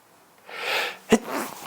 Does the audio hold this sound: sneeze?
yes